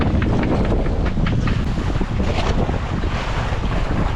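Strong wind roars and buffets against the microphone, loud and constant, with a rushing wash of water underneath.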